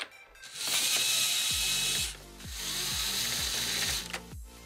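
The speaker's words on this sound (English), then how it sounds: "two strong motors turn a linear actuator. Then that linear actuator powers a scissor lift, which lifts the ball up" LEGO pinball machine mechanism: two strong motors drive a linear actuator that raises a scissor lift to lift the ball, giving a loud, steady whirring motor drone with a rhythmic ratcheting clatter of plastic gears, pausing briefly midway before resuming.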